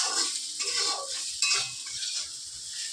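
Potatoes fry in an oiled pan at home, a continuous sizzle broken by scraping stirs of a utensil against the pan, close and without speech.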